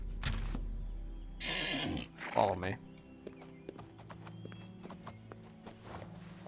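Horse in the video game Oblivion, with a whinny and hoof clip-clops amid game ambience, someone speaking briefly over it.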